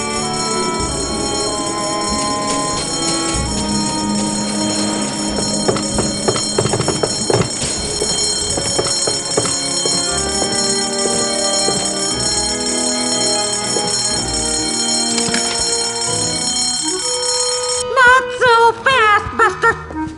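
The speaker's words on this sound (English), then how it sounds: "False fire alarms cost lives." Fire alarm bell in the adventure game Escape from Monkey Island, a loud continuous metallic ringing that runs throughout alongside game music and effects, with brief voice lines near the end.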